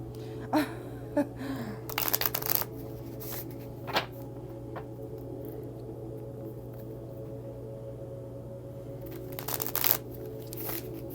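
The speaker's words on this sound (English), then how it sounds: "the cards being sloppily shuffled" Tarot cards are shuffled in a few quick riffling bursts, close and fairly soft, separated by quiet stretches with scattered taps.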